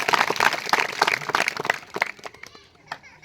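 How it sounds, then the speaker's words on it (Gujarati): An audience at a Christmas church program in Kushalgarh, Rajasthan, claps loudly in a dense burst of applause that thins into scattered claps after about two seconds. "તાળી પાડીને એકવાર જોરદાર"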